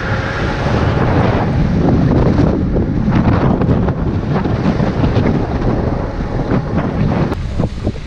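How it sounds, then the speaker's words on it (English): Strong wind blowing outdoors in rough conditions, a loud continuous roar buffeting the microphone with gusty rumble and no break across the whole stretch. "the wind is really picking up here now"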